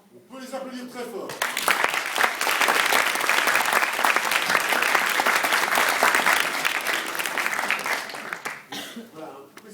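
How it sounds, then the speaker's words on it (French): A crowd at a Faraday cage electrostatics demonstration bursts into loud, sustained applause that swells after a moment, holds strongly for several seconds, then tapers off, with a voice heard briefly at the start. "On peut les applaudir très fort."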